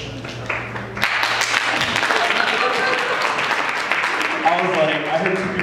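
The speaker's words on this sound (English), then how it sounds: "I heard two people clapping." Applause breaks out after a voice and carries on as a dense patter of clapping, with a speaker's voice returning near the end.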